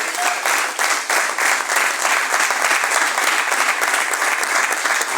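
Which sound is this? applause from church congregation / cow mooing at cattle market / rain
applause from church congregation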